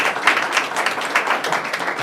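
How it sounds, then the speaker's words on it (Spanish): An audience gives loud, sustained applause welcoming a guest at a cultural event, with dense, continuous clapping throughout and no pauses. "recibido con un fuerte aplauso."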